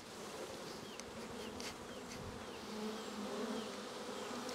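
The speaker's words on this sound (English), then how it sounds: "So you can see a few bees on here doing the waggle dance." Honey bees buzz steadily at an open hive during waggle dances, a dense continuous drone close by with several sharper passing buzzes over it, no talk.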